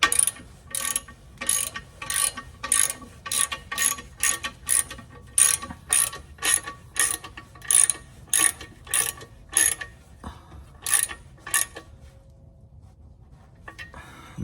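A hand ratchet tightens a bolt on a Ford Bronco accessory near the front differential, clicking in about twenty quick, evenly spaced bursts that stop toward the end and leave near silence.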